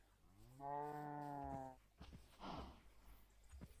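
A cow in the video game Minecraft gives one long, tonal moo up close, followed by softer rustling and thudding game sounds.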